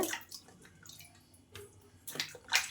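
Tomatoes are rinsed by hand in a bowl of water in a home kitchen. Soft splashes and drips come in short, irregular bursts, quiet and close, with no talking.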